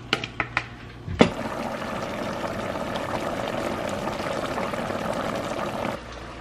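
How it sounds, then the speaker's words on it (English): Leftover water is poured over oxtails in a pot, a steady splashing pour lasting several seconds after a few sharp taps and a knock, with no one talking. "Then I'm gonna take the little water that I had left. I'm just gonna pour it on top."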